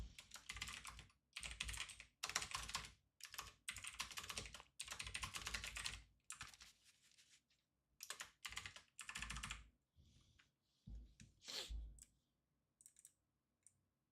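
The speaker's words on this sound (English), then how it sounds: "let me kind of type this up just in case I do see something" Typing on a computer keyboard in bursts of rapid clicking keystrokes, close and fairly quiet, with short pauses between runs and only scattered taps near the end.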